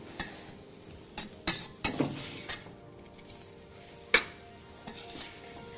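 Rice sizzling and frying in a pan for Uzbek pilaf, stirred with scraping utensil clatters and several sharp pan clinks, close and fairly quiet, with no talking.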